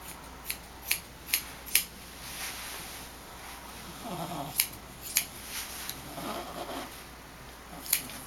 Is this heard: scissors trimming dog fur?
yes